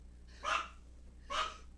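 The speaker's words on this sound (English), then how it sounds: "Always barking at nothing like, a leaf blowing across the street" A dog gives two barks spaced about a second apart, moderately close but fairly soft, over a low steady background hum, with no talking.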